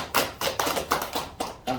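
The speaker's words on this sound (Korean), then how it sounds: "우리 퇴직자 연맹 총재님 큰 박수 한번 보내드립니다" Small audience giving a round of applause for the president of a retirees' federation at a lecture, a handful of uneven, fairly close claps in loose bursts, with no talking.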